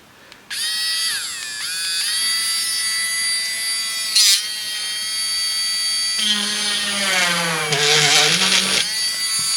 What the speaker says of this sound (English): Let's take our drill.